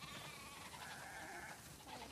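Several sheep bleat in a barn on a snowy farm in The Last of Us Part II, faint overlapping calls from a flock heard without speech.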